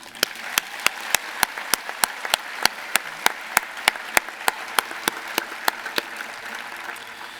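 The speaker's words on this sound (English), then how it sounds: "How about another round of applause for our Convocation speakers?" Audience at a 2019 University of Idaho convocation applauds with steady, sharp claps spread across the hall, fairly even throughout and gradually thinning toward the end, with no voices over it.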